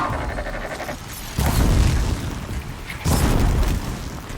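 Fire explosions in the Horizon Zero Dawn video game: two heavy booming blasts roughly a second and a half apart, each a loud low burst that rumbles on, close and alone.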